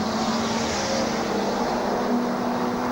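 Super sedan race car running down the main stretch of a speedway at a 1997 championship meeting, a steady loud engine drone with a sustained tone and broad roaring noise, no pause in the sound.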